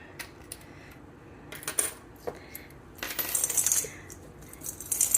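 Coins clink and drop one after another as a handful of change is counted, sparse metallic taps building into denser jingling toward the end, close and fairly quiet.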